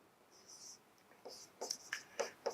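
Chalk or marker scratching across a classroom board during a maths lesson on definite integration, quiet strokes that grow into a run of short, separate taps and scrapes, close by with no talk over them.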